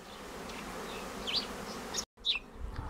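Bees streaming out of a two-storey hive through the upper entrance, a soft steady buzz with a few louder passes close by, broken by a brief gap before the hum resumes.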